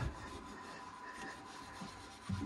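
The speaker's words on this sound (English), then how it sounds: "I'll give them all a nice rub down, get all the flux runs" Cloth or abrasive rubbing across soldered copper pipes to clear away flux runs, a soft steady scrubbing texture with a couple of slightly louder strokes near the end.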